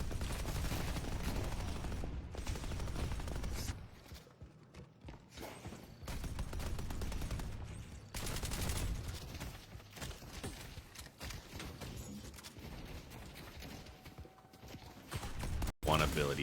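Robots fire guns in a video game: bursts of rapid gunfire and mechanical clatter over a dense, noisy game soundscape, with a voice talking over the action.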